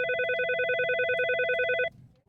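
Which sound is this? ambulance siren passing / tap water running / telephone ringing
telephone ringing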